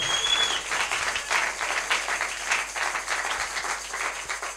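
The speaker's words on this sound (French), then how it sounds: "Put your hands together." A church congregation claps together in sustained, dense applause that stays loud and even for several seconds, with no speech over it.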